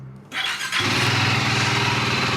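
A KTM motorcycle engine with a single cylinder and an aftermarket exhaust can cranks and fires up, settling into a steady, deep, bassy idle that rumbles loudly and continuously close by.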